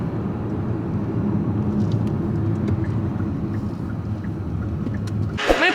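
A car drives steadily along a smooth rural road in Poland, a continuous low tire and engine rumble heard from inside the cabin, with a brief rustle near the end.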